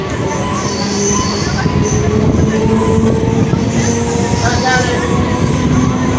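A passenger train on the Howrah chord line pulls into a station, with loud steady rumbling and high wheel squeal throughout, heard from on board.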